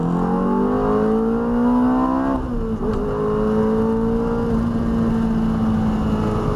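Ferrari F430 V8 revving hard on a test track in a lower gear, a loud, continuous engine howl that climbs, dips briefly at a shift, then keeps pulling steadily, heard from inside the car.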